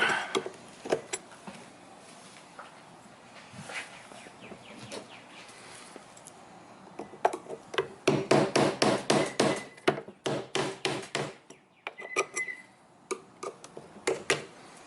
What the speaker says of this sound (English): possibly hit it with a scraper and get it out